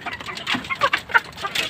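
Hen clucking among farm chickens, a few short soft clucks in an uneven rhythm, close by and alone.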